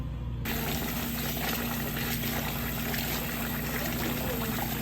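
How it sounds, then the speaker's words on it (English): Steady rushing water pours and splashes continuously as rice is rinsed, close and fairly loud, with no pauses. "we are going to get our rice, wash it"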